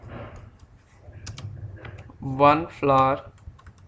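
Keyboard typing while entering figures into an Excel spreadsheet, soft clicks running under a man's speech, close and at moderate level.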